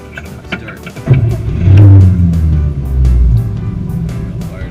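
A 1953 Chevrolet Bel Air with a manual transmission cranks and fires up, its engine catching with a loud low rumble and then settling into a steady running idle, with light clicks and handling noises before it starts.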